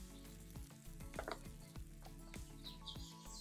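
Pieces of fish sizzle and crackle in a frying pan, a quiet, steady fry broken by repeated sharp clicks and taps, as if the pieces are being nudged or turned, with no voices.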